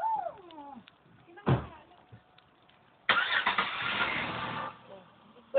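A car engine cranking and catching as a vehicle is brought out of a garage, a short burst followed by a louder sustained roar of revving that settles, with voices talking before it starts.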